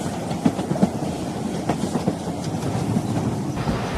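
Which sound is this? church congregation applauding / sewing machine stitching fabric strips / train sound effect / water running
train sound effect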